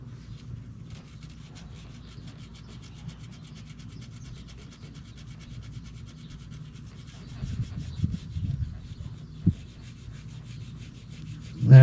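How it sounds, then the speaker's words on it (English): A Scotch-Brite pad rubs across the valve cover mating surface of a 2002 Nissan Altima, a soft, faint, steady scuffing that grows a little louder and rougher near the end, over a low background hum. "run this Scotch-Brite across the mating surface"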